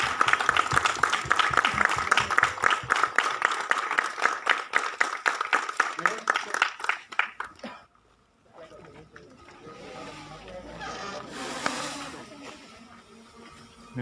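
Rhythmic clapping from a gathered crowd as balloons are released at an outdoor health event, loud and rapid for several seconds, then stopping abruptly and giving way to murmuring voices and scattered background noise.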